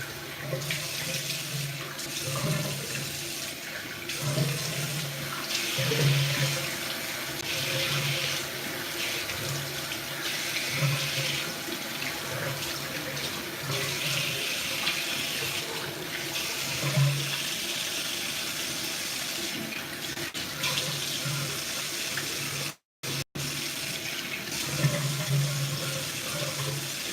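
Steady tap water runs into a sink for about half a minute while someone washes their face, with faint splashes and handling noises, broken by a brief gap near the end.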